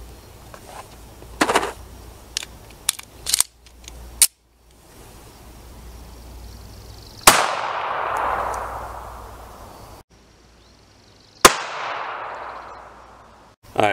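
Two sharp, loud .380 pistol shots firing Ammo Inc 100 grain full metal jacket rounds ring out several seconds apart, each with a ringing echo trailing off, preceded by a few lighter clicks and knocks.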